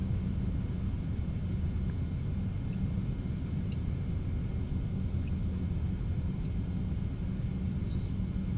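Steady, heavy low rumble of a Boeing 717's engines on reverse thrust during landing in a flight simulator, a constant droning roar close and even throughout with no voices.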